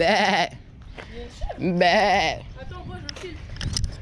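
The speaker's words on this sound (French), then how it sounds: "je vais vous montrer les chèvres. Enfin, c'est des brebis" Loose ewes or goats in an open field, seen on a bike ride, give two loud, wavering bleats close by, with fainter animal calls and people talking in between.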